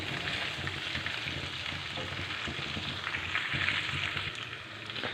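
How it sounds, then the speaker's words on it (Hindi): Chicken fries with ginger garlic paste in a pan, giving a steady, soft sizzle with a crackling texture that stays even throughout and is not covered by any talking. "हमने चिकन को जो है अदरक लहसुन के पेस्ट के साथ फ्राई कर लिया।"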